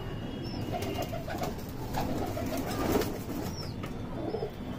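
Madrasi pigeons coo in a steady, overlapping murmur close by, with occasional wing flutters and a busy loft-like background throughout.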